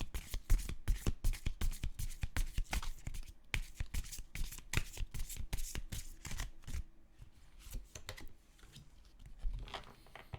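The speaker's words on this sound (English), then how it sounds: "Let's pull you some tarot cards." A deck of tarot cards being shuffled close up in rapid, steady riffling flutters that run almost continuously, slowing and thinning briefly near the end, with no voices.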